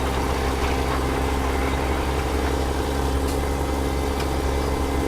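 A tractor engine from Farming Simulator 17 drones steadily at a low idle-like rumble, continuous and moderately loud, with no talking.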